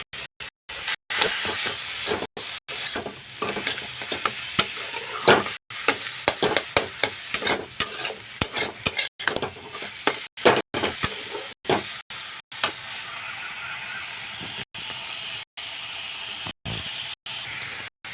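Leafy greens fry and sizzle in a pan with a steady hiss, broken by frequent scraping, clattering stirring strokes from close by, without talk.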